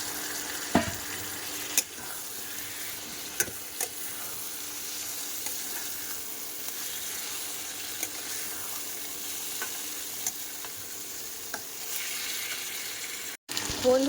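Meat sizzles steadily in spiced masala on an induction cooker. The frying stays even and close throughout, with occasional clinks of stirring.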